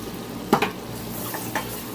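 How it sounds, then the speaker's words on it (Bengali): Grass carp pieces fry gently in medium-hot oil while a utensil scrapes and taps the pan twice, over a soft continuous sizzle with no talking. "আস্তে আস্তে ভাজতে থাকবো।"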